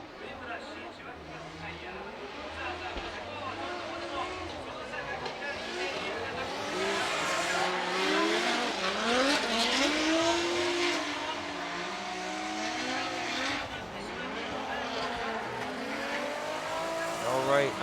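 Drift cars battle at Sportsland Sugo in Formula Drift Japan, among them a Toyota JZX100 Chaser, with engines revving and rising and falling in pitch, tires squealing, and the sound swelling as they pass, under a commentator talking.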